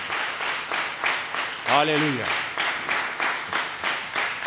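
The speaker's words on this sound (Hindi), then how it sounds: "क्या आप यीशु के लिए तालियां बजा सकते हैं?" A church congregation claps in a steady, rhythmic beat during a sermon, the repeated claps carrying on under a preacher's exclamation.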